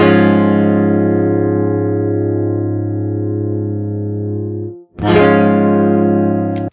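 A single sustained guitar note, reshaped in Melodyne editing software, rings with rich harmonics and slowly fades, then cuts off before a short, brighter struck note and a brief click near the end.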